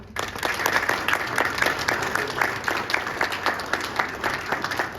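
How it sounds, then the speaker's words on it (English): An audience at an annual meeting presentation breaks into a short round of applause that starts abruptly and holds a steady patter of many hands for about five seconds. "if you will give us a short round of applause"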